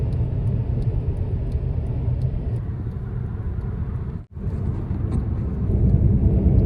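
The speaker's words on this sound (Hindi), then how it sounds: "100 की स्पीड में गाड़ी चल रही है" A car travels at about 100 km/h, giving a loud, steady road-and-wind rumble inside the cabin with a brief drop in level partway through.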